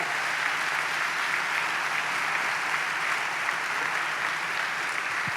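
Church congregation applauding together in a dense, even burst of clapping that holds steady for several seconds, filling the room without voices on top.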